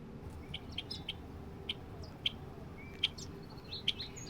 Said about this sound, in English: birdsong in the trees